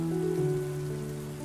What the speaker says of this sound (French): Et la pluie continue de tomber